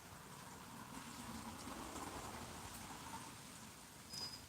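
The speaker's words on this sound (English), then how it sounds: "it's raining outside" Soft, steady patter of rain heard from indoors, faint and continuous, with no voices.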